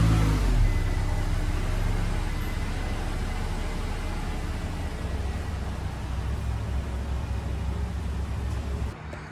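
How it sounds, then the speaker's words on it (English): A bagged Infiniti G35 engine drones steadily close by, starting with a low rumbling swell and then settling into a constant mid-pitched hum that cuts off abruptly at the end. "let's go ahead and get her car pulled out"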